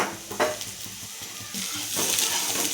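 Mango pieces frying in a pan with mustard seeds, cumin, green chilli and onion give a steady close sizzle, with a few stirring scrapes and light clinks at the start.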